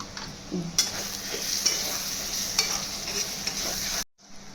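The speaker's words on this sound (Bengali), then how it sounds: "কাঁচা লঙ্কা দিয়ে কিছুক্ষণ কষে" Green chillies frying with onion, garlic and chilli paste for a desi chicken curry, a steady close sizzle with scrapes of stirring throughout, then a sudden cut to silence near the end.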